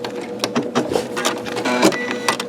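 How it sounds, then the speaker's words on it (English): A Janome MC9900 sewing machine automatically trims its thread while sewing with metallic thread, giving close, loud clicking and whirring mechanical bursts in quick irregular succession. "I did not want to cut the thread, but it did automatically"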